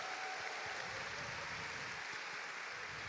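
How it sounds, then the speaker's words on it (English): Crowd applause at a Pokémon regional tournament's Masters Division final in London, a steady, moderately faint wash of clapping lasting about three seconds with no voices over it. "ladies and gentlemen in the crowd, make some noise for your Masters Division final"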